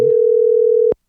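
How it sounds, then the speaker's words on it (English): A telephone dial tone plays as a loud, steady, close electronic hum for just under a second, then stops abruptly with a click. "or the dial tone?"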